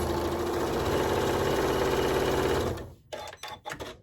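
A sewing machine stitches quilt block fabric in a fast, steady mechanical hum for nearly three seconds, then stops and gives a few short, stuttering bursts, close by with no voices.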